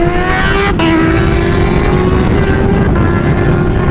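Two Kawasaki Ninja H2 supercharged motorcycles cruising on an Ohio road, a steady loud engine drone with a held tone and strong wind rush throughout, no pauses.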